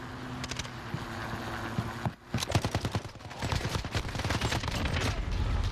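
Gunfire in a video game shooter: loud, rapid bursts of automatic fire crackle in quick succession over a steady background rumble, with a brief lull before the shooting resumes heavier.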